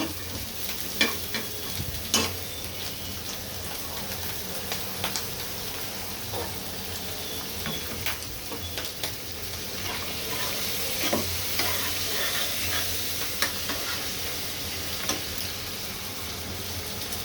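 Prawns coated in turmeric and salt fry in hot oil, a steady dense sizzle running throughout with scattered sharper crackles and pops, close and continuous, with no voices.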